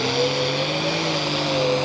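A Farmall 400 pulling tractor at a tractor pull in Rockwell, Iowa, roars at a loud sustained high-revving engine pitch with a steady whine, close and continuous throughout.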